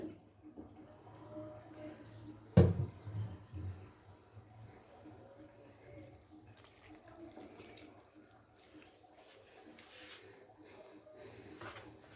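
Milk trickles little by little into a batter for patishapta and kheer, a soft, faint liquid pour with one brief knock early on, otherwise quiet and steady.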